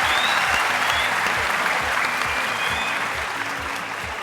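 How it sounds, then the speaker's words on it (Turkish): Studio audience at The Voice Turkey singing show applauds loudly after a performance, with a thick wash of clapping and some crowd noise. It fades gradually over a few seconds. "Yani bu gelen tezahüratlar da onun için geliyor."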